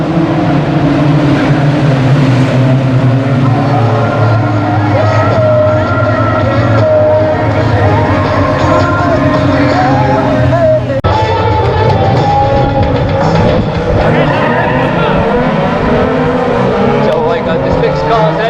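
Race cars lap Aldershot Raceway in a 15-lap race, their engines droning and shifting pitch continuously beneath a commentator's steady talk.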